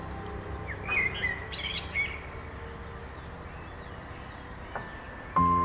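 Wild birds call in their natural habitat, with a few short chirps and a thin whistled song over a soft outdoor hum and faint insect buzz.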